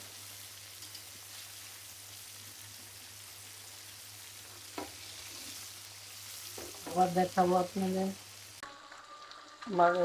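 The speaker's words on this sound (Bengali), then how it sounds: "মাছ ভাজা হয়ে গেছে আমি উঠায় ফেলবো" Rohu fish pieces fry lightly in oil for a curry with pumpkin bori, giving a soft, steady sizzle under a low hum, while a voice speaks briefly near the end.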